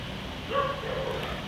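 Dogs barking and yipping briefly in the background, a couple of short mid-pitched yelps at moderate distance, with no speech over them.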